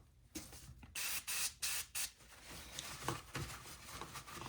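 Cleaner is sprayed onto the dash console trim of a 2009-14 Ford F-150 in several short, sharp hissing bursts close to the listener, followed by softer rustling and handling noises.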